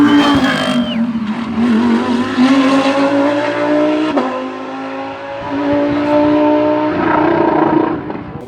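An Audi race car at the Bathurst 12 Hour passes close by through the S's on its cool-down lap, a loud, sustained engine note that shifts in pitch as it goes by and then fades, with no talking.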